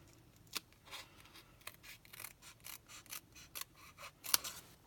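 Scissors snipping around a small paper craft tag, a close, quiet run of irregular short cuts and rustles with no talk.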